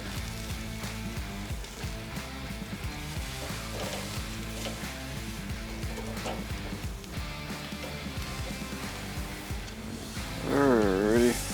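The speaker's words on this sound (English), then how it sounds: "Beautiful sear starting." Beef short ribs searing on a Weber grill give off a steady, dense sizzle that hisses continuously at moderate loudness, swelling briefly near the end.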